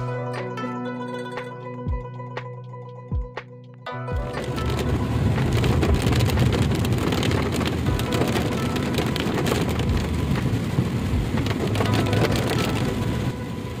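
Rain falls outside during a rainy stretch in Kalimpong, beginning as a few scattered knocks and drips, then turning into a steady, loud, dense hiss of rainfall that carries on without a break.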